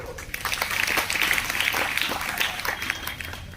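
Students clapping at a school welcome ceremony for new junior college entrants, a short burst of scattered applause from a modest crowd that swells briefly and then thins out.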